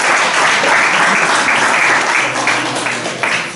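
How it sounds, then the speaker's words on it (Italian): Audience applause before a lecture on relativity and quantum mechanics, a dense, steady clatter of many hands filling the room for several seconds, loud and close, with no voices over it. "Grazie dell'applauso preventivo sulla fiducia."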